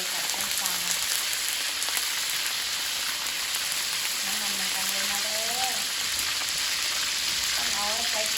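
Long beans stir-frying with shrimp paste in a hot pan, a steady loud sizzle with crackling and occasional stirring scrapes, while a voice talks intermittently over it.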